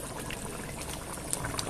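Spoonful of ghee drizzled around egg curry in a hot pan, a steady broadband sizzle and bubbling hiss that holds evenly throughout, with a few small crackles near the end.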